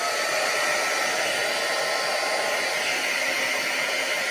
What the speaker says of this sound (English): I don't have my drying tool out, but I have my heat gun.